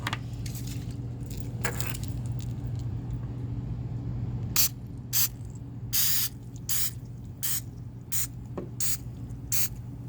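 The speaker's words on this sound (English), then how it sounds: "you're going to use vegetable spray and coat the insides of the molds and all sides of each one of the slats" Short bursts of vegetable cooking spray hiss into suppository molds, several quick separate sprays over a low steady background hum, fairly close and crisp.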